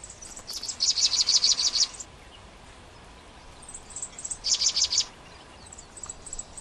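Dead Sea sparrow, a male perched at its nest in a hot Dead Sea setting near water, sings two bright, rapid bursts of high chirping notes, the first longer and the second shorter, alone against a quiet outdoor background.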